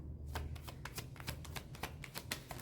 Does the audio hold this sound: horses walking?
no